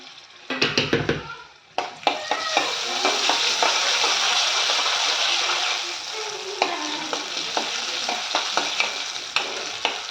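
Dried chilies, chana dal and urad dal drop into hot oil, with a few sharp clatters and then a loud, continuous sizzle and crackle close up, and scattered stirring knocks. No one speaks.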